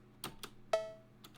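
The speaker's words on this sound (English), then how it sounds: "then I added a cowbell as well," A cowbell in an FL Studio beat rings once as a short, faint metallic tone, set between a few quiet percussive taps.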